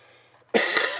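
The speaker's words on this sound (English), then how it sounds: "Excuse me, I just got that cough today." One sharp, close cough breaks a near-silence, loud and abrupt, then fades quickly.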